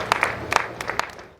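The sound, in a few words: audience round of applause for the presenter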